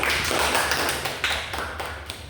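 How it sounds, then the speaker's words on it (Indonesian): Students in an Indonesian microteaching class applaud a presenting group with quick, overlapping clapping. The sound is dense and continuous, close and fairly loud, with a low hum beneath and no voices. "Coba beri tepuk tangan buat kelompok 2."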